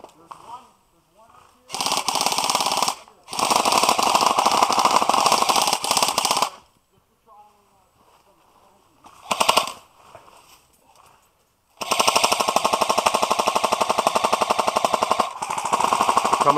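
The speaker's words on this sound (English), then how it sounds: "Are you guys just shooting at nothing or what?" Bursts of rapid automatic gunfire in a multiplayer shooter game, with long loud volleys separated by quiet gaps and a short burst midway, while players talk over the action.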